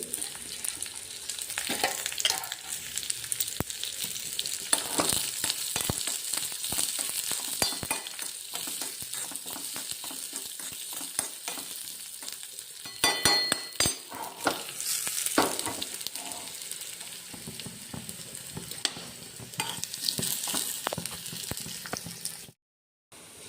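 Sliced onion and curry leaves fry in hot oil with mustard seeds for a Kerala ash gourd curry, a strong crackling sizzle broken by repeated scraping stirs, close and steady with no voices.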